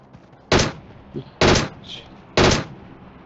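Three sharp, loud gunshots ring out at roughly one-second intervals during a battle royale video game, each a crisp burst, with faint voices between them.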